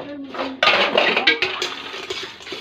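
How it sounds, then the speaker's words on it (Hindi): Clattering of dishes, pots and utensils being washed at home, busy metallic clinks and scraping with running water, close and continuous. "घर पे हो रहा है बर्तन का सफाई"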